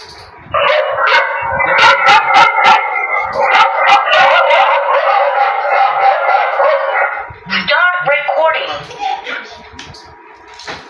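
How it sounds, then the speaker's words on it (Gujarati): A device plays a loud, close run of dog barks and yips in quick succession, with a short pause before a final burst of barking. "કૂતરાનો અવાજ આવે છે."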